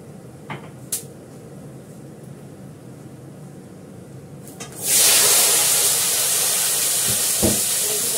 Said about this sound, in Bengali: সর্ষেটা ভালো করে ভাজাবো